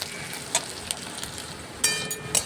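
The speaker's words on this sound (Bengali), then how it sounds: "পেঁয়াজটা দিয়ে পেঁয়াজটা ভাজা ভাজা হয়ে হয়ে এসছে" Sliced onions frying in a pan for a drumstick-leaf (sajne shak) dish give a soft, steady sizzle with scattered pops and crackles, fairly quiet and close, with no voices over it.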